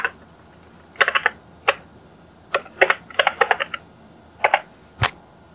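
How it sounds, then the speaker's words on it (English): Keystrokes on a computer keyboard enter a command in bursts of quick clicks separated by short pauses, close and crisp, with no speech. "We'll just type this command that I am typing."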